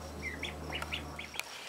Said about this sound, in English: So the ducklings are old enough to be set out here and not have to have a light.